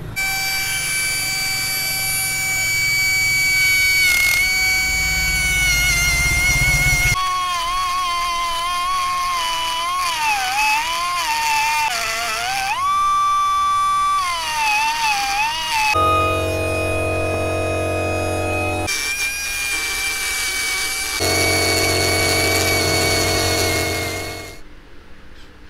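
A power tool boring out a Kawasaki RR motorcycle cylinder block gives a loud, close whine that rises, dips and wavers in pitch over several passes, then cuts off abruptly near the end.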